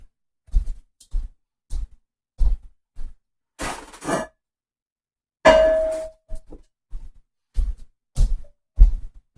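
A 1970s Visionware glass stovetop dish is handled in a home kitchen, giving several sharp clangs and clinks, including a bright, ringing crash, between softer knocks and thumps.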